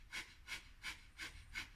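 Rapid, forceful nasal breaths of the fire breath exercise from an active meditation session, five strong rhythmic puffs about every third of a second, close and alone with no talk.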